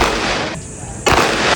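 A CZ 75 Shadow 2 9mm pistol test-fired outdoors, heard as loud, dense gunfire blasts filling the clip, with a brief gap in the middle before another sharp report.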